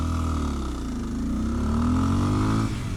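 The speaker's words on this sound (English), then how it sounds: "just release in second, and we have enough of that grunt down low to just gently pull the bike away" Kawasaki KLX230 Sherpa dual-sport motorcycle pulling gently away in second gear, a steady low-pitched single-cylinder engine note close by that rises slightly as the bike accelerates, then eases off near the end.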